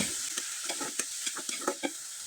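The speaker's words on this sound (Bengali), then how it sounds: "এখন আমি নেড়ে চেড়ে এই পুরটাকে একবার শুকনো শুকনো করে তৈরি করে নেব" A coconut and jaggery filling for coconut puli pitha is stirred in a pan, giving quick, regular scraping strokes over a constant hissing sizzle, close and fairly loud, with no voices.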